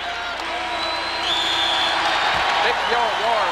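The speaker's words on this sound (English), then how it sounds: "Big yell roar from the crowd at Hilton Coliseum." Crowd noise at a college wrestling match in Hilton Coliseum, Iowa vs Iowa State: a broad arena roar of voices that swells louder halfway through, with scattered cheering and some speech mixed in.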